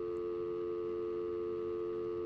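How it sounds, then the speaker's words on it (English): A telephone dial tone from the game Heavy Rain plays as a faint, steady, unbroken tone, heard alone. "We're doing a Dial Tone joke."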